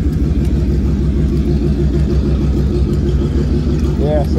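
A loud car with a new muffler passes close by, its deep throbbing engine rumble steady throughout while a person talks over it.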